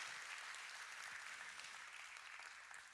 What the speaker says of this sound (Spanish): Denle ese aplauso bien fuerte al Señor